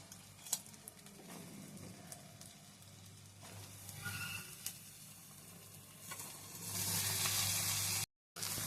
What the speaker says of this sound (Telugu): ఇప్పుడైతే బీరకాయ ముక్కలను అయితే వేసుకుందాము.